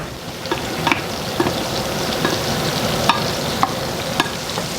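Garlic cooks in three tablespoons of olive oil over low heat, a steady soft sizzle and crackle close by, with occasional light clicks of stirring and no talking.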